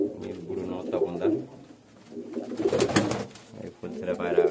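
Fulsera and Kalsera pigeons coo in a loft, with low rolling calls swelling and fading in bursts close by while a person talks over them.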